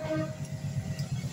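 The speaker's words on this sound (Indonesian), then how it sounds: "Ini kereta kedua." A passenger train passing toward Bandung on the rail section near Cilame station, a faint steady rumble of wheels and carriages with a thin sustained horn-like tone, heard from a distance and without talk.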